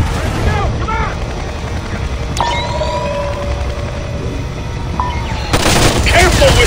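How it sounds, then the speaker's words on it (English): In the stealth action game Splinter Cell: Conviction, a helicopter churns amid bursts of gunfire and booming impacts, with sweeping tonal whines and a sharp loud surge near the end. "I'm taking fire from that chopper."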